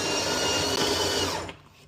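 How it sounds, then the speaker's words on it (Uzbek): A DeLonghi La Specialista Touch EC9455 espresso machine grinds coffee beans: a loud, steady, dense whir for about a second and a half, then it stops abruptly and leaves quieter residual hum. "Kofeni maydalab oldik."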